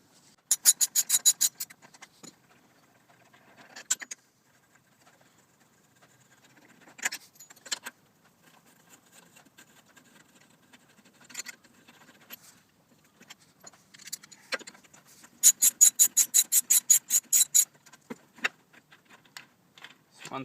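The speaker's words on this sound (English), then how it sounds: "to remove the head we remove these 4 bolts" Four bolts come out of a Victa lawn mower cylinder head, heard as close, scattered bursts of rapid ratcheting clicks separated by quiet pauses and small metallic handling noises.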